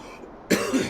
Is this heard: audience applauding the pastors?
no